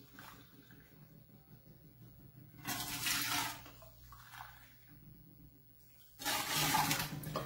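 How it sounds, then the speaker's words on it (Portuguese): Two cups of boiling water poured into the pot the cabbage was cooked in, for cabbage rolls: two separate splashing pours, each lasting about a second, rising clearly above a quiet kitchen background. "vai pôr água já fervente aqui, duas xícaras de água fervente"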